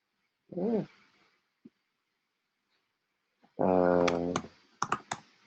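A few sharp clicks of typing on a computer keyboard come in a quick irregular burst near the end, following two short voiced sounds in an otherwise quiet room.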